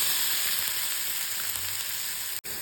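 Leaves dropped into hot coconut oil with popped mustard seeds sizzle loudly and steadily in a pan, a continuous close frying hiss with a brief break near the end.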